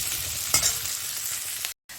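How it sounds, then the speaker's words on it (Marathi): Chopped onion frying in a pan, a steady light sizzle with one sharp stir-scrape near the start and a softer one later, ending in a brief cut to silence. "तर याला थोडं भाजून द्यायचं आहे कांद्याला."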